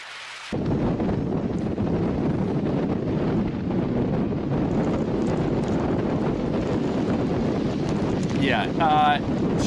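Strong wind buffets a light aluminum bass boat on a lake as a storm approaches, a loud, constant roar of gusts across the microphone, with a brief voice near the end.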